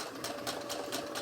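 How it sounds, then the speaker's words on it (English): A sewing machine stitching a toddler skirt gives a short run of even, rapid needle strokes, about four to five per second, with a steady motor hum underneath, close and alone. "and then I sew a little bit"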